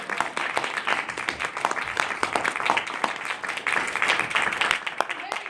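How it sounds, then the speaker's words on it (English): Applause for a student speaker following an oratory presentation, a crowd clapping continuously and fairly loudly throughout, with individual sharp claps standing out in the dense wash. "Let's give Mr. Freeman another round of applause."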